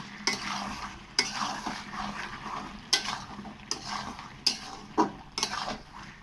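Potatoes are stirred into chicken kosa in a pan, with a spatula scraping and knocking against the metal at irregular intervals, about seven distinct strokes over a soft, continuous frying hiss.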